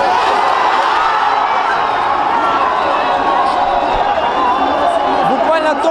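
Football fans of Karaganda's Shakhtar erupt in cheering after the final whistle of a Champions League qualifying match, a loud, sustained roar of a stadium crowd with shouts mixed in.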